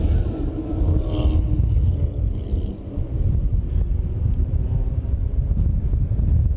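Toyota Southwest Super Late Model race cars roar around Willow Springs International Raceway, a loud, steady engine rumble with a car swelling past, heavy wind buffeting the microphone.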